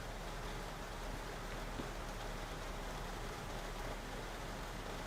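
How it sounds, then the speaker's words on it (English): Rain falling outdoors as a steady, even hiss of drops on surfaces, continuous and fairly faint with no talking. "Would you like to hear some rain"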